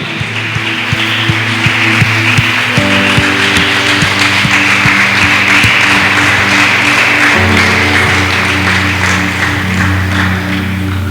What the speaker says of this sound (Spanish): Si le va a aplaudir, apláudale más fuerte, porque esa adoración es para Él.